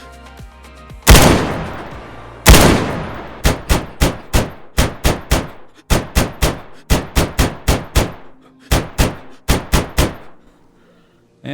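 An HK416 rifle firing 5.56 rounds in a video game: two heavy opening shots, then a long string of sharp single shots in quick, uneven bursts, loud and close with short pauses between groups.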